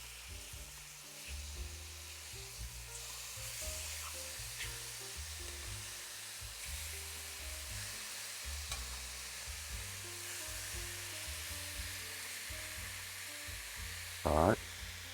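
Pork chops sizzle in a hot pan after being flipped, making a continuous, fairly loud frying hiss with a low hum underneath and a brief louder burst near the end.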